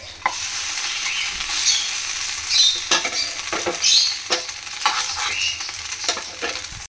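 Pancake batter frying in a pan makes a bright, steady sizzle close by, with irregular scrapes and taps of a spatula against the pan and no talking.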